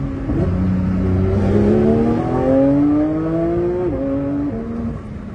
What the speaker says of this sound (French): Maintenant, petit rétrogradage.